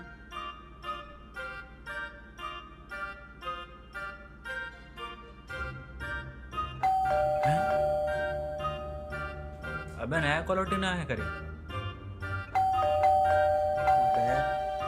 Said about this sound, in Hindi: अबे घंटी बजे थे दरवाजा के।